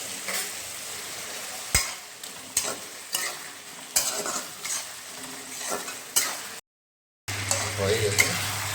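Dry red chillies and bay leaves fry with a little salt in a pan, a steady sizzle broken by repeated scrapes and knocks from a stirring utensil, then a brief drop to silence before the frying resumes.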